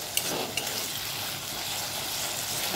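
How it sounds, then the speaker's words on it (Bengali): Potatoes and pointed gourd frying in a pan over a medium gas flame, a steady close sizzle with a couple of faint clicks near the start. "এবার একটু ভাজতে দেব, আর গ্যাসের ফ্লেমটা মিডিয়ামে রাখবেন।"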